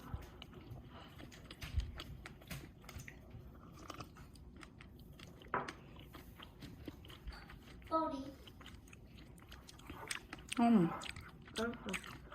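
Crisp crunching and chewing sounds close up as someone bites into bread with a crispy crust, several bites spread across the stretch, with quiet talk and a voice in the background.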